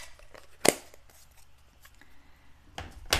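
Scissors trimming white edges in a pressed-leaf craft project, with two distinct close, crisp snips, one early and one near the end, amid quiet background rustling.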